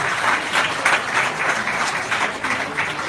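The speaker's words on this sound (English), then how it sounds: "give me a round of applause" Audience applause after an impressive demonstration at a weekly meeting, steady mid-level clapping lasting about three seconds with rhythmic bursts, no talk over it.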